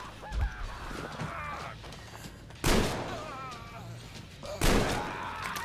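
Gunfire rings out in the Metro Exodus shooter, with two sharp, loud bursts standing apart from a busy game backdrop of clatter and cries, and a man reacting in between.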